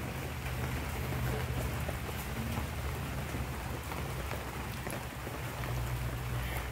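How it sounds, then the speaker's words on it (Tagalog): Rain falling outdoors, a steady broadband hiss of drops on surfaces with a low rumble underneath, continuous and moderately distant, no talk. "Maulan po siya ngayon."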